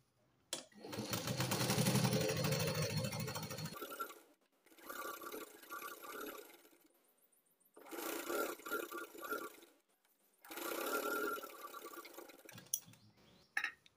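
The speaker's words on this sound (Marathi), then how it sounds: "असं अस्तर उलटवून घ्यायचं, व्यवस्थित ठेवायचं आणि तिन्ही बाजूला शिलाई देऊन घ्यायची." Sewing machine stitching the lining of a katori blouse along three sides, running in three or four loud bursts of steady whirring with short pauses between, close up and alone.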